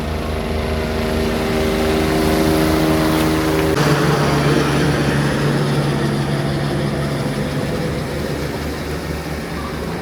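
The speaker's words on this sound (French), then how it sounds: "il y a un hélicoptère qui va passer au-dessus de nous." A helicopter passes overhead along a coastal hiking trail, its loud steady rotor and engine drone filling the air without letup.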